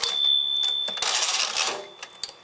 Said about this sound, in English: It has the bell and everything.